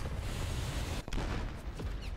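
Tank cannon firing in a World War II Italian tank video game: a dense, loud battle roar with one sharp blast about a second in, followed by continued rumbling gunfire.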